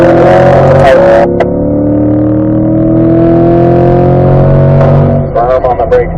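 A C8 Corvette accelerating hard out of a track turn, a loud close engine note rising steadily through the revs before backing off, with a person talking over it at the end.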